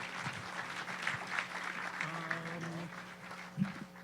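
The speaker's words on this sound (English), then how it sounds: "Please give him a warm round of applause." Polite applause from a conference audience welcoming a keynote speaker at a hacker security event, BSides Vancouver; moderate, fairly soft clapping sustained under a hum of room noise, with a brief thump near the end.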